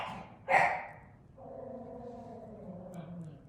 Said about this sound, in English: That's my dog, Oliver.